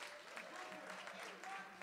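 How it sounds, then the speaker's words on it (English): Audience clapping at a Haitian Flag Day celebration at Brooklyn Borough Hall, a steady wash of applause through the whole moment, moderately loud, with voices mixed into it. "Clap that up, please."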